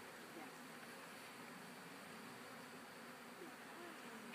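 Honeybees hum steadily around an open hive during a package install, a soft, continuous buzzing drone that stays even throughout with no clear talk over it.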